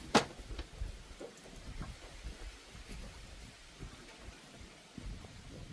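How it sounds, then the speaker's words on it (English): Heavy pouring rain in a chicken yard, a faint steady hiss and patter continuing throughout with a few louder knocks and drips, no voices. "It sounded like it was pouring rain."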